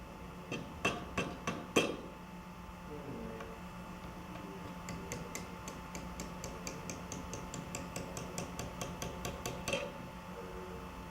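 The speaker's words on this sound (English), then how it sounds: "with a punch and a hammer, knock the bolt out of the hub and teeter block" A hammer drives a punch against a bolt stuck in a hub and teeter block, ringing in a few hard strikes and then a long run of quick, evenly spaced taps.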